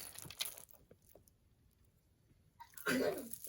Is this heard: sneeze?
yes